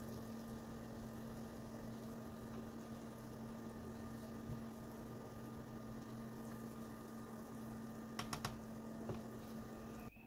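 Onions cook down in melted butter over low heat, giving a faint, steady bubbling sizzle with a constant hum beneath and a couple of soft clicks near the end, no voices.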